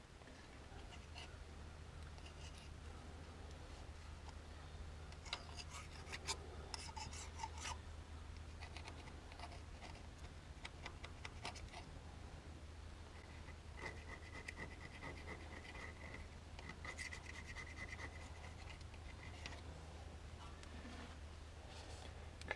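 Residue is scraped off a Farmall 460 tractor part in repeated short, faint rasping strokes that come and go over a steady low hum, with no talk.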